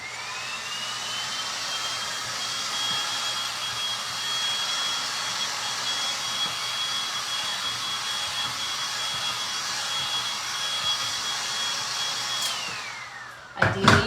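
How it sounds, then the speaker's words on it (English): A heat gun blows over a freshly painted chalk-paint project before clear coat, giving a loud, steady, close whooshing whine that holds for about twelve seconds, then winds down in pitch and stops, followed by a brief clatter. "I'm just gonna make sure one more hit with the heat gun before I actually get to work here"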